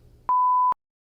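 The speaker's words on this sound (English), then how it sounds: "just leave a message after the beep" A single clean electronic answering machine beep, steady in pitch for about half a second, followed by silence.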